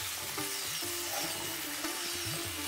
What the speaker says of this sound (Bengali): এবার মাংস ও আলুগুলোকে ভালোভাবে নাড়িয়ে কষিয়ে নিতে হবে।